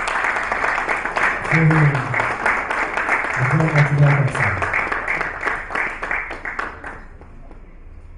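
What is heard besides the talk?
audience applause at an event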